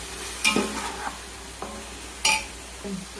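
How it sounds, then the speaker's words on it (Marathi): Chicken with biryani masala being stirred in a pan, a few distinct scraping strokes of a utensil against metal over a soft background sizzle. "आता आपण हलवून घेऊया चांगलं मिक्स करून"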